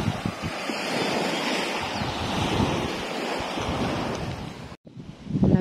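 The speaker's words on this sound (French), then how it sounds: "La plage de Coral Cove se trouve ici." Surf rolling onto the tropical beach at Coral Cove on Koh Samui, a continuous close wash of breaking waves with heavy wind buffeting the microphone, briefly dropping out near the end before the roar returns.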